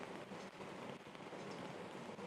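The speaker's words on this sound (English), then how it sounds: "And it's 1-0 to South United in the pouring rain." Pouring rain during an outdoor soccer match, a steady, dense hiss of falling water that holds at the same level throughout, with no voices over it.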